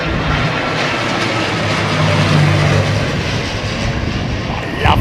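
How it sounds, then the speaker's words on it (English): A propeller aircraft engine drones steadily at London Heathrow Airport, loud and fairly close, with a sustained low hum that swells slightly midway and a brief sharper sound at the end. "I love the sound of a prop"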